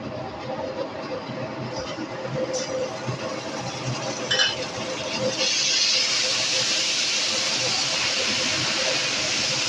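Green chilli paste and ginger hitting hot oil in a pan, producing a continuous sizzling hiss that grows louder and brighter after a few seconds, with a few faint clinks.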